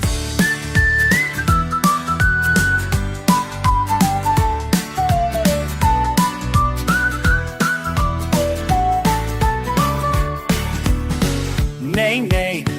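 A bright whistled melody imitating birdsong glides from note to note over a bouncy instrumental backing, clear and prominent throughout.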